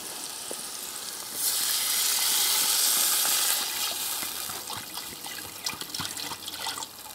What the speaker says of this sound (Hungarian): már öntöm is föl vízzel, hogy ne égjen meg